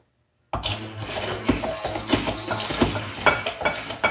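A yogurt and jello mixture is stirred in a bowl, giving a wet, sloshing churn with repeated soft knocks and scrapes, close and fairly quiet, with no talking.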